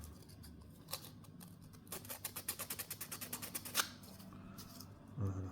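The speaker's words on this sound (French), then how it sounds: "un petit coup de papier de verre à l'intérieur" Sandpaper rubbing back and forth inside a carved opening of a homemade wooden fishing lure, a quick run of about a dozen rhythmic close scratches with a few scattered rasps around it, quiet and alone.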